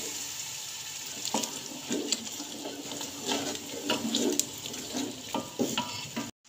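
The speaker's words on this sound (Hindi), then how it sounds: "1 कप मैं दही डाल रही हूँ।" Yogurt is added to a frying fish curry masala in a pan, a continuous wet sizzle with soft stirring scrapes and bubbling, steady and close, with no speech.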